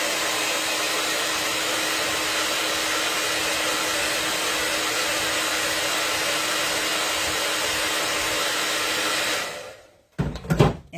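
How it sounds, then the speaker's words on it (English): A blow dryer drying a craft butterfly tag, a loud steady whirring roar held for about ten seconds, then switched off, followed by brief handling noises. "I'm going to hit this with a blow dryer real quick"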